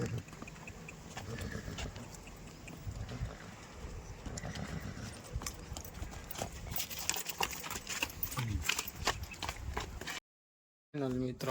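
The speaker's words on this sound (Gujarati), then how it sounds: "વછેરી છોડી છે. ઘોડી થોડો પાવર કરે છે." A 17-month-old filly, let loose near a mare, clip-clops steadily on the ground and whinnies. The busy, continuous hoof and animal noise is broken by a short gap of silence near the end.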